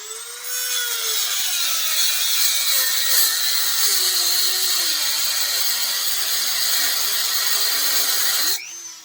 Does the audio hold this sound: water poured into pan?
no